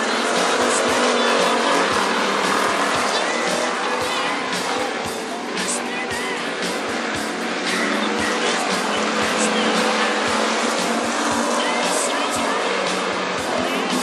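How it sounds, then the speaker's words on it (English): Street stock race cars battle for a transfer spot in a heat race at Princeton Speedway, engines roaring steadily and loud throughout with constant dense mechanical noise, under a race announcer's commentary. "The next three cars battling for that fourth and final transfer spot."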